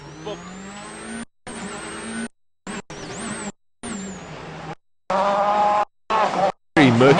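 A rally car on a murky rally stage revs and accelerates hard, its engine note rising and falling through gear changes with brief tire squeal, heard in choppy cut segments at moderate loudness.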